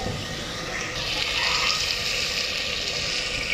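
Mutton masala frying with spices in a pan, a loud, continuous hissing sizzle that swells a little partway through, close and steady, with no talking.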